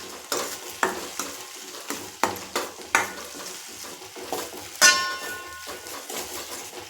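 A spoon repeatedly scrapes and knocks through a thick garlic potato gravy with crushed peanut powder in a pan, giving rhythmic stirring strokes over a soft sizzle, with a bright metallic clang near the end.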